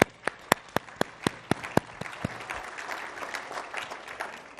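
Awards-show audience at the Impact Awards applauding, opening with a run of sharp, evenly spaced individual claps up close that blend into a steady wash of crowd clapping.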